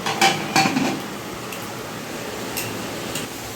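Metal clanks twice in quick succession as a pressure cooker lid is fitted and closed in a home kitchen, followed by quieter scattered taps against a low background hum.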